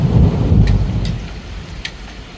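A wind and rain storm in a cartoon story: heavy rain and rumbling thunder fill the clip, loud and close, with a few sharp crackles on top, and no voices.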